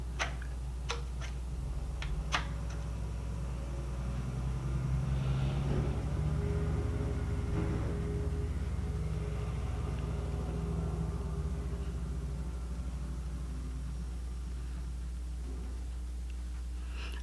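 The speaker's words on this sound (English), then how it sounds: "I don't know what big truck is driving by at almost 9 o'clock at night" A big truck passing outside at night gives a low, steady rumble that swells and fades over several seconds, muffled and distant, with a few sharp ticks near the start.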